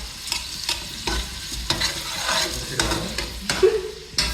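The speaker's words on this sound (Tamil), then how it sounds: "அதுக்காக வந்து 5 வெங்காயம் ஆட் பண்ணியிருக்கோம். அதுக்காக ஸோ நல்லா வதக்கிட்டு இருக்கோம்." Five onions for mutton biryani sizzle in a pan while being stirred, the spatula scraping in steady, repeated strokes over a constant frying hiss, up close.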